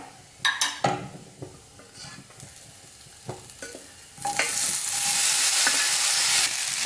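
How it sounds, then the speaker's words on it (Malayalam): Cooked elephant foot yam pieces are dropped onto fried onions and chili flakes in a pan and stirred. A few close clatters and scrapes give way to a loud, steady sizzle of frying. "ഇതിലേക്ക് വേവിച്ച് വെച്ച ചേന കഷ്ണങ്ങൾ ചേർത്ത് കൊടുക്കാം"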